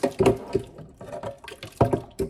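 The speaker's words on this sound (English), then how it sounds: "So I will use water to rinse the remaining one out." Water sloshes as a bowl is rinsed out while making akara bean cakes, with a series of short irregular splashes and swishes close by.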